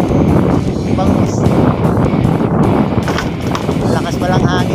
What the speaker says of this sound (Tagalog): Lakas pa lang hangin dito